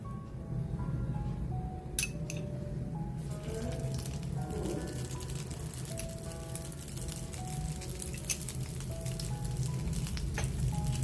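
Oil sizzling on a marakarikka dosa in a pan, a steady crackling fry with occasional metallic clinks, close and continuous throughout.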